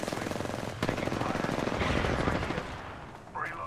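Automatic gunfire in the video game Apex Legends, rapid bursts of shots rattling in quick succession amid game effects, with players talking over the action.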